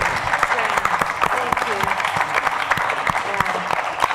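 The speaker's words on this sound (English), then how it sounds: "let's give a round of applause" An audience at a talk about ending cannabis prohibition and psychedelic therapy claps for the scientists, a dense burst of close applause lasting several seconds with voices mixed in.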